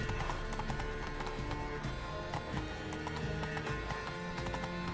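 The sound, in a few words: horse galloping in the video game The Witcher 3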